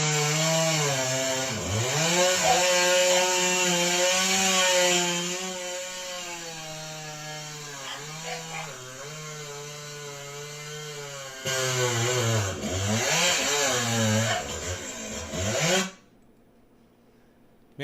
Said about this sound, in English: It's just a short little video of Mark sawing with Rogi